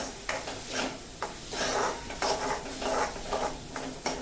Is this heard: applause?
no